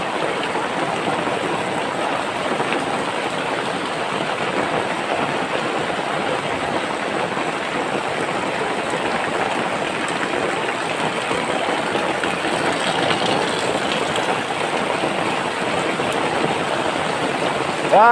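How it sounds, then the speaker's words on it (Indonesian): Heavy rain pouring down in the rural countryside, a loud, dense, unbroken roar of water that holds steady for the whole stretch. "Hei, hujan badak."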